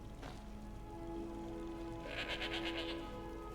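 Goat bleating in the Skyrim video game, a single faint, wavering bleat rising late over a quiet background hum with a soft patter beneath it.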